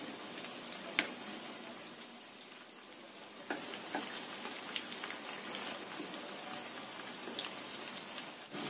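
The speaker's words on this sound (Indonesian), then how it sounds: "Kita bolak-balik ya. Tuh, yang udah kuning kayak gini, biar matangnya itu merata. Goreng sampai kering." Pieces of food deep-frying in a wok of hot oil and being turned until golden and crisp, giving a steady, soft crackling sizzle with scattered pops and no voices.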